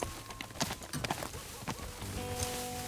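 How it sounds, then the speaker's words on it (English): Horse hooves galloping in the video game Teardown, a quick run of clip-clop beats that fades into a steadier blur of movement, fairly close. "This horse feels fast."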